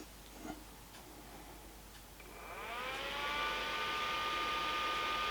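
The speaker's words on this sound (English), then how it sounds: "a sound test of the fans" Fans heard very close to a Rode microphone, starting quietly and rising into a steady whirring tone with a high whine that settles into an even, constant hum after a few faint ticks.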